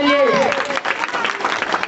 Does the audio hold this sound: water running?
no